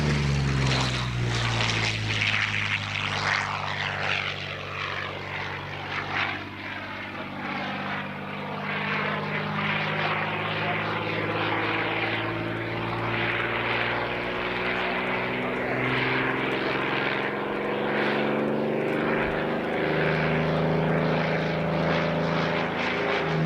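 A P-40N Warhawk warplane performs aerobatics at an airshow, its propeller engine droning loud and continuous with rising and falling pitch as it passes, while an announcer talks over it.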